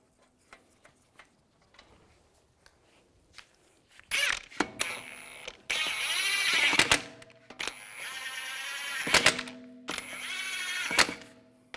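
Lug bolts being threaded onto a front wheel of a 2004-2010 BMW X3, heard as close, loud bursts of ratcheting mechanical whirring and clicking after a few seconds of faint ticks, with short pauses between runs.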